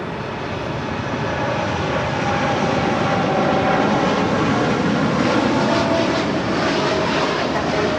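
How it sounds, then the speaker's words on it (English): A Cathay Pacific cargo plane departs LAX bound for Dallas–Fort Worth, its engines a steady, loud, broadband roar that swells slightly and holds for the whole stretch. "That is Cathay Pacific Cargo Flight 90 departing to Dallas, Fort Worth."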